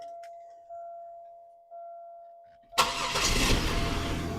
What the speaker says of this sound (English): Let's now fire it up real quick and see how it sounds for a second